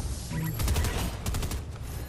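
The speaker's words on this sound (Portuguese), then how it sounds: "NPC tava atirando pra alguém aqui na frente" Rapid bursts of NPC gunfire during a Fortnite match, loud and close, with repeated volleys and no talk over them.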